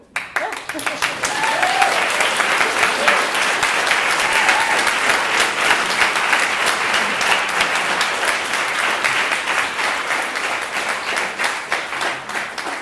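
An audience at an occulture conference talk claps loudly and continuously for more than ten seconds in a thick, even crowd of applause, with a few voices mixed in as it slowly thins toward the end.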